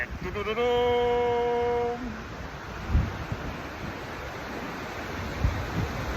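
Hengifoss waterfall in Iceland, dropping 128 metres, gives a steady broad roar of falling water with wind buffeting, after a short sustained tone at the start.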